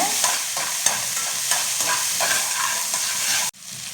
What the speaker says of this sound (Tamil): சேர்த்துட்டு நல்லா வதக்கி விடுங்க.